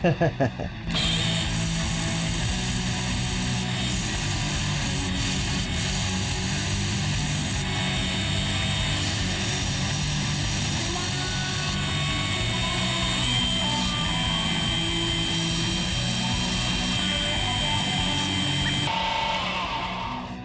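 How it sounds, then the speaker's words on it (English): A bandsaw cuts through a stainless steel knife bolster with a steady, loud, dense grinding whir that holds unbroken for about twenty seconds and cuts off near the end. "I'm gonna cut this off on the bandsaw to a little bit before that line."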